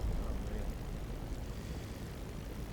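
A Spitfire Mk IX piston engine running in the DCS flight simulator, a steady, dense propeller drone held at an even level throughout, with no pauses and no one talking.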